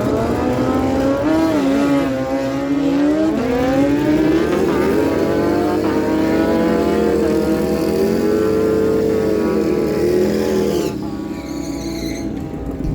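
Two drag racing motorcycles, a 2006 Suzuki GSX-R and a 2007 Kawasaki ZX14, scream down a dragstrip at full throttle, loud and close, with rising and falling engine pitch through gear changes before the roar fades away.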